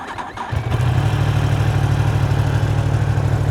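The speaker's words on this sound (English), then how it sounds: "we're going to hold run down until the engine fires up just like a car" A motorcycle engine is started with a push button, cranking briefly before catching and settling into a steady, rumbling idle, close and with no talk.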